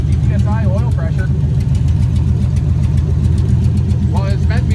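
A rebuilt engine in a 1972 Chevrolet Monte Carlo off-road racer idles steadily with a low, rhythmic rumble, close by, while people talk briefly over it at the start and end.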